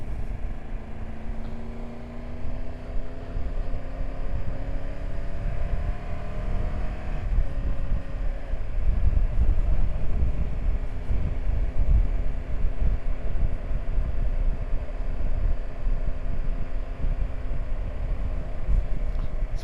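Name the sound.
wind blowing on a mountain col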